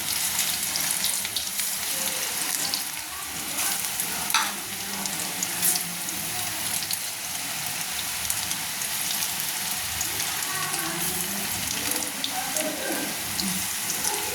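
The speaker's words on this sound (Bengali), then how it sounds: "এইভাবে দু মিনিট ধরে ভাজতে হবে উল্টে পাল্টে" Onion pakoras crackle in hot oil over low gas heat as they are turned, a dense, even sizzle that runs close and unbroken, with occasional light scraping taps.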